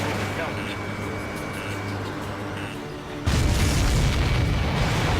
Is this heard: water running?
no